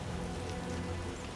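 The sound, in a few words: heavy rain in video game The Witcher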